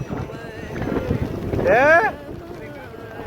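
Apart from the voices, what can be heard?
wind blowing during heavy rain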